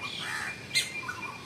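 A koel calls outdoors among trees, giving a brief, clear, fairly near cry with a couple of fainter notes after, against a soft hiss of background.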